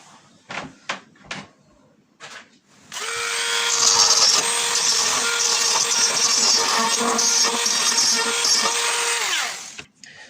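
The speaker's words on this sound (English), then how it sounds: "So I'm just going to use my Dremel to sand this down." A Dremel rotary tool sands down a freshly cut panel of a laser engraver enclosure, a loud steady high whine running about seven seconds after a few handling knocks, then cutting off.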